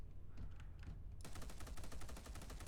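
Rapid automatic gunfire from a weapon in the video game Space Hulk Deathwing, a dense loud burst of repeated shots that kicks in after a short quieter stretch and continues steadily to the end, with no talking.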